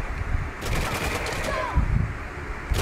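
Gunfire in the video game Uncharted: The Lost Legacy, a loud burst of rapid shots that ends in a heavy low boom.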